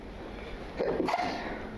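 A single sneeze from a person in a workshop session, one short burst near the middle against quiet room tone, with no talking.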